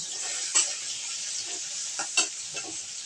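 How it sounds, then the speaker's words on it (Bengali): Mukhi and soybean chunks fry in oil in a pan, giving a steady close sizzle with a few sharp stirring scrapes and clinks spread through it. "ভালোভাবে ভেজে নেব এবার মুখি আর সোয়াবিনগুলো"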